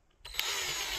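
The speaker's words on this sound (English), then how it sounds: "Use this drill, like a wood lathe, kinda." A power drill spins up and runs steadily, used like a lathe to turn a piece of manzanita wood outdoors; a short clack at the start, then a sustained whirring whine, close and alone.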